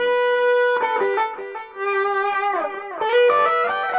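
An electric guitar played with distortion through the effects loop of a Peavey Bandit amp: bright sustained chords and notes, a brief pause, then more ringing distorted phrases.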